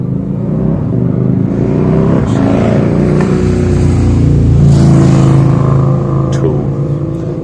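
A motorcycle running with no exhaust fitted roars loudly and continuously nearby, its rough engine drone swelling slightly as it revs.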